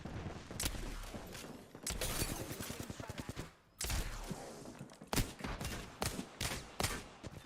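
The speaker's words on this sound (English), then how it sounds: "Stand back, knuckle clusters firing." A knuckle cluster weapon fires in a video game as rapid bursts of loud gunfire in several volleys, with brief pauses and mechanical clatter between them.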